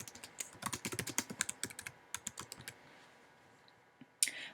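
Keys on a computer keyboard are tapped in a quick, steady run of close, crisp clicks, pausing briefly before a final louder keystroke.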